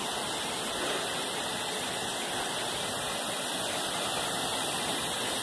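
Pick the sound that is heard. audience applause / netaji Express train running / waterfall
waterfall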